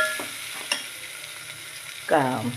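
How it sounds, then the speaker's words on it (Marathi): Masala of ginger, coriander stems and ten garlic cloves being stirred and roasted in a pan, giving a soft scrape, a brief clink, then a louder sizzling stir near the end. "आता हा मसाला आपण भाजून घ्यावा"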